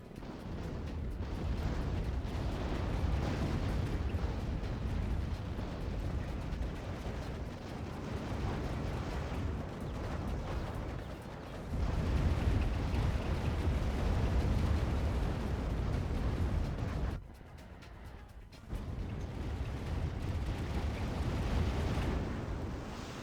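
Long-range artillery barrage in the real-time strategy game Act of Aggression, with dense, rumbling explosions rolling on almost continuously, loud and layered, easing briefly near the end before resuming.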